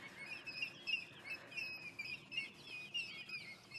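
Birds give repeated high, thin calls much like a raptor's at sunrise in the Sabi Sand bush, moderately distant and layered, with several calls overlapping and no talking.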